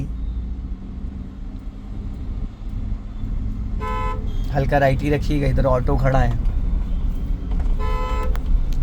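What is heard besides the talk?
car horn honking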